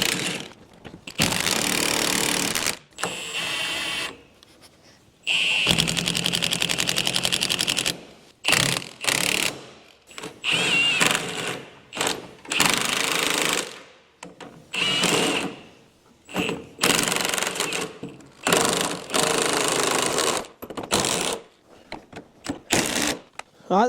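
A power tool bolts down the track rods on a classic VW Beetle being restored, with repeated loud bursts of buzzing, rattling impact driving broken up by short silent gaps.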